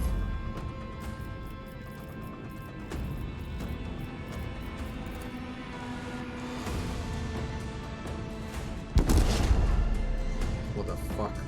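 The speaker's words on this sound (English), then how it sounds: "Macro cannons, volley!" Macro cannon volley in the Warhammer 40,000: Rogue Trader video game, a dense rumbling barrage with a sharp heavy boom near the end, heard through steady game background noise.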